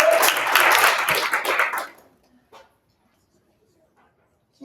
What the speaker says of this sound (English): Give Claire a round of applause while they do.